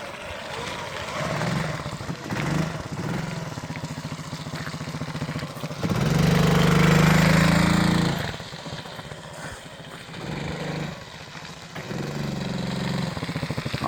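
A rare Honda P50 moped engine started with the choke, a light, buzzy putter that idles, swells into a louder rev in the middle, then settles back to a soft running hum.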